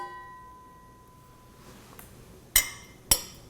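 Two wine glasses clink together twice, each a sharp, bright ring with a short shimmering decay, spaced about half a second apart after a faint tone fades out.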